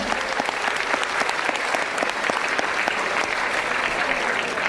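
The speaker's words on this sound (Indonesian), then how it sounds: "Beri tepuk tangan yang meriah untuk PT Perwira Steel" An audience at a Buddhist Dharma talk event gives sustained applause, dense steady clapping filling the hall from start to finish.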